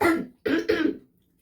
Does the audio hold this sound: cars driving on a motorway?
no